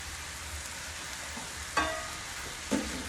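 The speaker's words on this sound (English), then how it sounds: "go ahead and add the onion and pepper to the skillet with the chorizo" Onion and pepper sizzle in a skillet with chorizo, a steady quiet frying hiss broken by two sharper bursts as the vegetables are stirred or dropped in.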